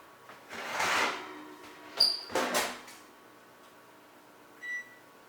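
A kitchen oven door is swung shut while a plum cake bakes, giving a soft whoosh, a clunk with a metallic ring, then a second thud, followed later by a brief tone.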